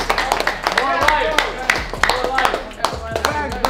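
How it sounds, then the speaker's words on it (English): People clap for CoolKicks at a sneaker shop, a scattered burst of handclaps from a small group, close and lively, with voices talking and cheering over them. "everybody clapping up for CoolKicks, man"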